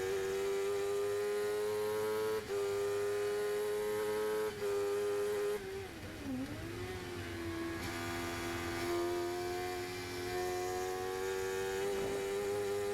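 A Sports 1000 race car engine on track at Oulton Park holds a steady high-pitched drone that dips briefly as the throttle is feathered, then climbs and holds again, heard from inside the car without talk.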